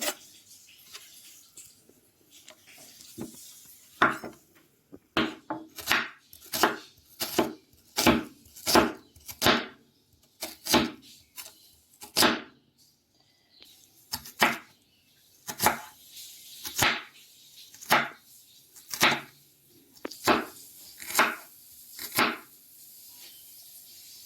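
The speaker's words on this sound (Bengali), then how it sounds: "সেই জন্য কেটে নিচ্ছি পেঁয়াজ" A knife chops onion on a cutting board for a dhaba-style bhindi masala, with about twenty crisp, evenly spaced strikes in steady bursts, close and clear with no talking.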